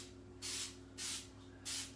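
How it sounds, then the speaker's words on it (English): Baker's Joy baking spray is sprayed into a bundt pan in three short, evenly spaced hissing bursts, close but fairly quiet against a faint background hum. "And I'm just going to spray the pan."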